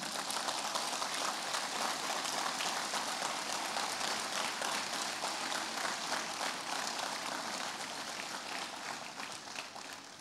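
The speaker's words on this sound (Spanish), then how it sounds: "Dele un fuerte aplauso al Señor" A church congregation gives a long, loud round of applause for the Lord, dense clapping that holds steady throughout and thins slightly toward the end.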